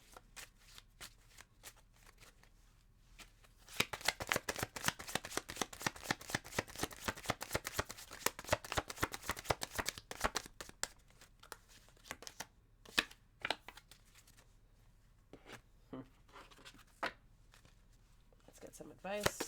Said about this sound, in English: Let's mix up the cards a little bit and pull again.